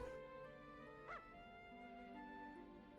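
A female dog in Dragon Quest Builders 2 gives a single short, high yip-like bark over quiet, sustained game music, with no talking.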